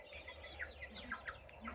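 Young chickens scratching about at dusk while the older hens settle to roost, giving soft, scattered clucks and peeps at close range over a low steady background hum.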